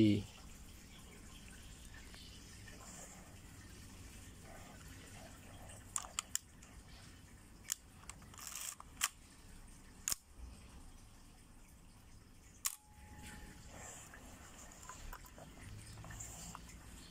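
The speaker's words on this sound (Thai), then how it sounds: "ชัตเตอร์ B" A repaired Nikon FE film camera fires its shutter on the B setting, giving several sharp, close mechanical clicks spaced a few seconds apart over quiet handling noise, with a voice speaking.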